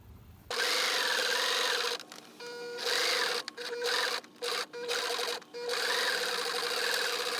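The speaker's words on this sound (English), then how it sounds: "you're gonna sew the edges here on the top and on the bottom" Sewing machine stitching the top and bottom edges of a fabric face mask, running in several loud, close bursts separated by short pauses.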